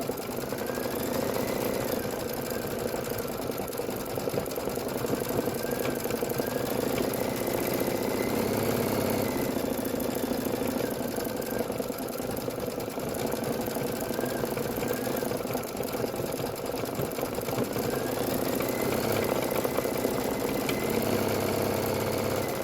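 A sewing machine stitches a black bat design with a black bobbin, running as a continuous close mechanical whir with rapid rhythmic needle pulses and brief pitch shifts as it moves, no talking.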